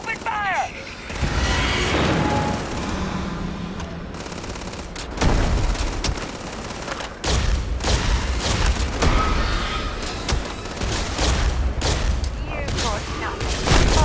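Heavy gunfire in a Starfield firefight, loud, rapid bursts and booms repeating throughout with brief gaps, mixed with shouted voices.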